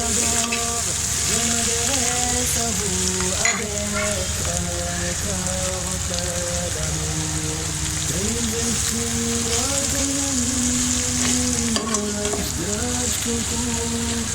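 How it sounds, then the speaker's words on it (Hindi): Capsicum and other vegetables sizzle steadily in a hot pan, a continuous loud hiss of frying over background music. "अब हम इसे भी फ्राई करेंगे"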